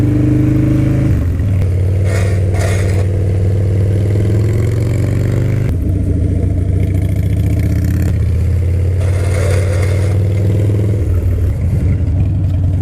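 Harley-Davidson Dyna motorcycle, club style, ridden on a hot day: a loud, steady low engine rumble with wind noise, the pitch shifting as the rider changes speed and gears.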